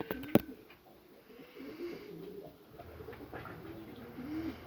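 Young racing pigeons from this year's brood coo softly in a loft, a low continuous murmur of calls with a few brief clicks and rustles, no talk over it.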